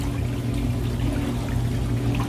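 Water gushes steadily from whirlpool bathtub jets during a bleach cleaning run, a continuous close pouring rush with a low pump hum underneath.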